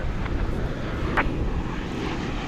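Finnair Airbus A350-900 airliner bound for Helsinki at DFW Airport, a steady distant jet rumble with wind-like noise, fairly even throughout.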